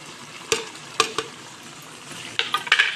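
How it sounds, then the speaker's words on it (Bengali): Fish-head muri ghonto being stirred in a pan, soft sizzling broken by several sharp utensil scrapes and knocks against the pan, close and without talk. "ঘেটে ঘেটে নিব"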